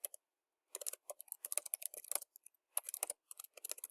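Computer keyboard typing in quick irregular bursts of crisp clicks, close and fairly quiet, with short pauses between runs of keystrokes.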